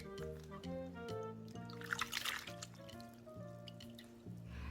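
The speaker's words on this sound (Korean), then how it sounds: "20초에서 30초 사이에 데쳐서 찬물에 바로 담가서 두세 번 헹궈줍니다" Blanched spinach is rinsed in cold water, giving soft, faint splashing and trickling water sounds under background music.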